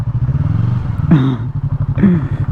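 A 2020 Yamaha MT-03 motorcycle rolls across a gravel lot, its engine pulsing in a steady close thrum, with two short bursts of crunching, scraping gravel under the tires.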